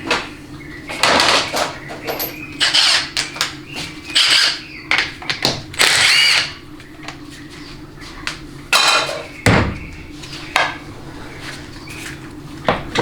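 Metal clanks and clinks from a socket on a 13 mm nut during teardown of a Ford 6R80 six-speed automatic transmission, with repeated close bursts of rattling and scraping and no talk.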